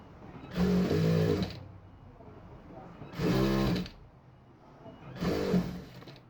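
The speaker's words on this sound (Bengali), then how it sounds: "প্রথমে নিচের মুড়িতে হাফ ইঞ্চি সেলাই করে নিব" A sewing machine runs in three separate bursts of roughly a second each while stitching a half-inch hem on trousers, the motor whirring loud and close with quiet pauses between runs.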